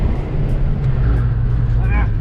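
A car drives hard through a turn while understeering, with loud, close engine and tyre noise droning steadily as a person talks over it.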